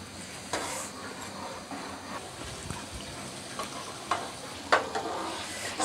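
Tomato ketchup sauce with spices sizzles and fries in a pan for grill chicken gravy, with soft steady crackle and occasional louder stirring scrapes, fairly quiet overall.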